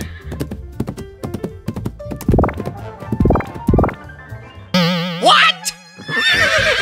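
Horse neighing and hooves clip-clopping in a toy farm diorama race, a rapid run of hoofbeats with loud whinnies, followed by a warbling synthetic effect sound.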